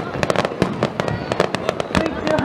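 Underwater fireworks bursting over calm water at a Japanese fireworks festival (Dontosai), a rapid irregular string of loud sharp cracks and booms, with crowd voices talking beneath.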